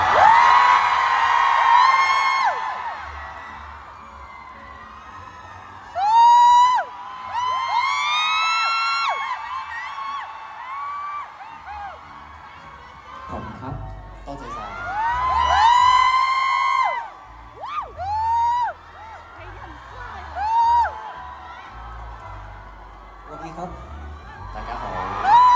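Fans at a fan-meeting event scream and cheer in repeated high-pitched bursts, rising and falling in waves over a crowd murmur, with loud peaks and quieter stretches between them.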